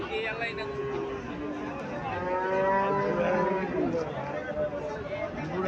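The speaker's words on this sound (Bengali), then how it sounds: "এখানে একটা গাভী দেখা যাচ্ছে" A cow moos loudly and repeatedly at a busy cattle market in Cumilla, its long lowing calls rising over the crowd's background chatter and hubbub.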